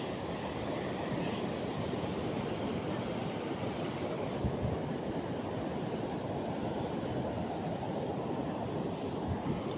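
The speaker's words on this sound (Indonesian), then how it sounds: "dan suaranya ombak ini sangat bising." A dense, continuous wash of rough ocean surf roars along a river-mouth shoreline, steady and fairly loud throughout with no breaks and no talking.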